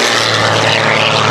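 An aerobatic propeller airplane performs at the Dubová 2018 air show, giving a loud, steady engine drone that fills the whole moment without pause and without voices.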